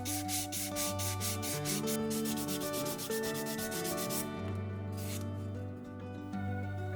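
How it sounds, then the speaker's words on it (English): A sanding sponge rubs across wooden edges in quick, regular back-and-forth strokes, close up, with soft music playing underneath. "using a sanding sponge, I'll round over some of those edges"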